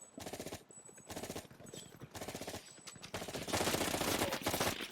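Automatic gunfire in Call of Duty Black Ops Cold War, rattling in several rapid bursts separated by short gaps before merging into a longer, louder sustained volley.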